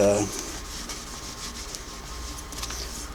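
Cheesecloth rubbing paste wax off the painted finish of a Singer Model 404 sewing machine, a steady close dry scrubbing swish lasting a few seconds after a brief low hum at the start.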